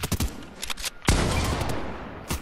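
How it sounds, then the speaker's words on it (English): Gunfire in Fortnite Chapter 4 Season 4 during a duo match: a few sharp shots early, then a loud crack leading into a sustained burst of rapid fire, close and dense. "Oh my god, I hear shots."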